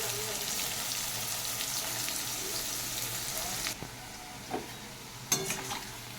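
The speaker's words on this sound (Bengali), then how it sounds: "দিয়ে দিচ্ছি কুচনো পেঁয়াজ।" Chopped onions hit hot oil with black cumin and partly fried potatoes, giving a steady close sizzle that drops to a softer hiss midway, with a few scraping stirs.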